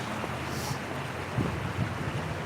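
Rapidly flowing water near a bridge, a steady loud broadband rush with wind buffeting the microphone and a few low thumps, with no voices.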